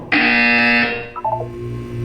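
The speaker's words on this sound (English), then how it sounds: "When you hear the buzzer, look down at the floor." A loud electronic buzzer from the video game Portal 2 blares for almost a second, then gives way to softer falling tones and a low hum.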